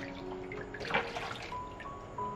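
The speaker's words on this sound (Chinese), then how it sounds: "先把这些黄桃全部清洗干净。" Fresh yellow peaches are washed in water, giving soft splashing and trickling with small drips close by at low level and no talk.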